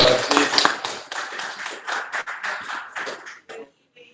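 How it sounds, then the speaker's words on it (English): A small group at a Kiwanis club meeting applauds close by with dense, steady clapping that runs for several seconds, then thins out and stops. "Round of applause, please."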